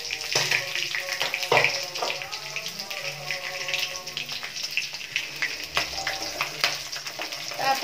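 Chhatu mushrooms with chilli sizzle steadily in a pan, a dense crackling hiss broken by scraping and stirring clicks, with a faint voice now and then.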